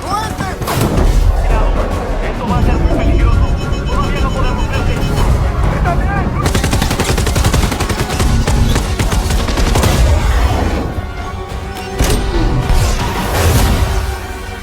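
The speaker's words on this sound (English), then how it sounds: "yet ground enemies continued their relentless fire" Militants fire during a movie battle scene: dense, continuous gunfire and explosive bursts under a loud, busy mix with a narrator's voice talking over it.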